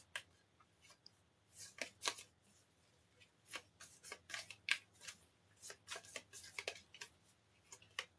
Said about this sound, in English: I am going to shuffle some cards here real quick with some names on them